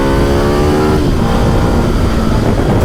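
A 2012 Ducati Multistrada 1200 motorcycle accelerating on a road, its engine loud and close, the revving tone rising steadily before blending into a rough, continuous roar.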